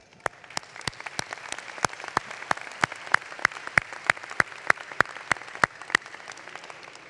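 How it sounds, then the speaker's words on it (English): At a 2016 college commencement, a sparse, distant crowd claps in a steady, evenly spaced rhythm. Each clap stands out as a sharp individual crack rather than a dense roar. "please join me giving a round of applause to your family and friends"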